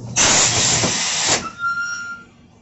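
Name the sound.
steam iron hissing while ironing a school uniform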